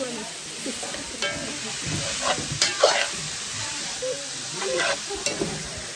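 Pork and chicken fry with green beans in a pan while being stirred, a soft sizzle with scraping and clinking spoon strokes coming in bursts, near and moderately loud, with brief talk.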